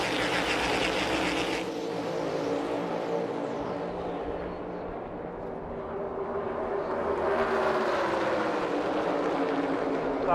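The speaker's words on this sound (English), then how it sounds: "you don't need that clutch to come up through the gears because here we go" A NASCAR stock car at Auto Club Speedway accelerates up through the gears, its engine note sweeping upward, dropping at a shift, then climbing again as the loud roar grows over a steady background din.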